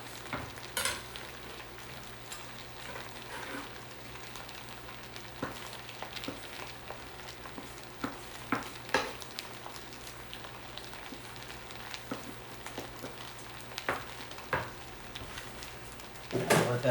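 Fried rice with tomatoes sizzles steadily in a pan, a soft continuous crackle broken by occasional stirring scrapes and clatters, and louder clanks come near the end.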